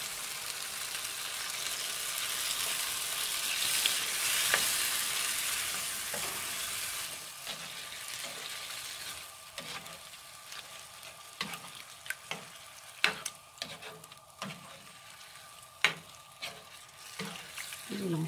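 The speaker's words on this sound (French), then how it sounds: "Et on rajoute le lait de coco." Coconut milk poured into a sizzling shrimp curry pan: a loud hiss at first that calms, followed by repeated clinking, scraping stirs of a utensil against the pan.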